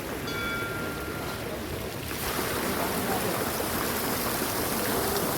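A decorative fountain at the Swaminarayan temple in Pune, set up for light-and-music shows, pours a steady, dense rush of splashing water that swells louder after the first couple of seconds and carries on without a break.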